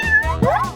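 A kitten gives a single short, rising-then-falling meow, close and clear, with no talking over it.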